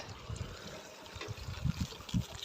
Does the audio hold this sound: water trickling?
yes